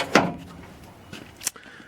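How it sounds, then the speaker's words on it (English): A car door on a Ford XC Fairmont 351 clicks open with a sharp latch sound, followed moments later by a second quieter click and a brief metallic clack, close by in a quiet space. "So we'll get some doors open"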